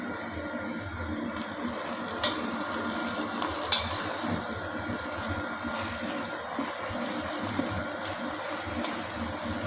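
Tomatoes frying in a pan for pullakura curry, a steady broadband sizzle with occasional stirring clicks and scrapes, close and continuous throughout without any talking.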